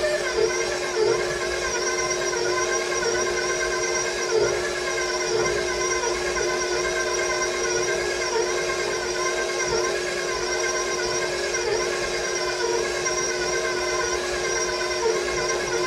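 A KitchenAid stand mixer kneading bread dough runs with a steady, loud motor whine and hum, constant and unbroken from start to finish, with no talking.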